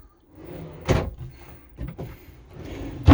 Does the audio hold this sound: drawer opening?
yes